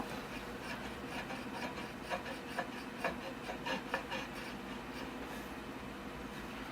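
A scribe scrapes steadily across the top rim of a clay bonsai pot, a faint, continuous gritty rasp with slight rhythmic pulses of the strokes.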